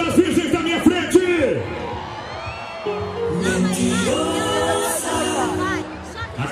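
Rodeo crowd at an arena in Itaberaí, Goiás, shouting and whooping in loud waves of massed voices, with an announcer's amplified voice at the start and overlapping cheers that swell in the middle and fade toward the end.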